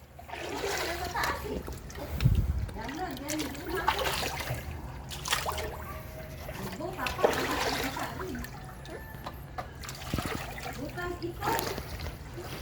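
Water splashes and rushes along a flooded stream, a continuous close sloshing with irregular louder splashes, while people talk over it throughout.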